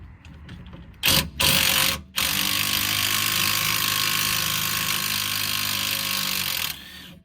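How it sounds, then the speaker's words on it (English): An impact gun with a 14mm hex socket undoes the shock absorber bolt on a Toyota iQ, giving a few short bursts and then a long, loud, steady run of several seconds before stopping. "I'm gonna use an impact gun"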